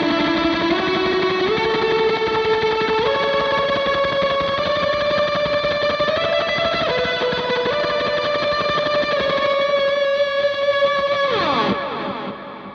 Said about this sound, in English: I'll use that with more extreme delay and reverbs to kind of get that really big ambient post-rock